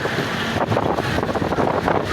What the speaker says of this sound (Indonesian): Anginnya sangat gede lur.